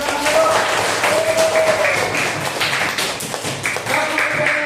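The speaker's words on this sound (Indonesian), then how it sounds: "Tepuk tangan dulu." Classroom group clapping hands together, a dense, steady burst of many hands lasting several seconds, with faint voices mixed in underneath.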